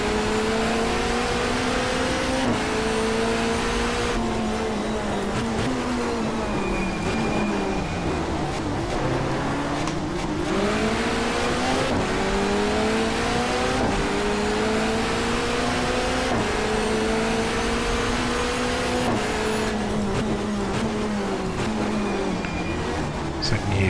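A touring car engine from the 1994 Asia-Pacific championship in the racing game GTR2 drones steadily, its pitch climbing and dropping repeatedly as gears shift up and down, a continuous close racing sound.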